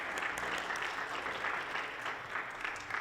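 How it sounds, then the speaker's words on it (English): Applause from an audience after a school band's performance at a workshop, a steady wash of clapping from many hands, moderately distant and continuous. "definitely a round of applause"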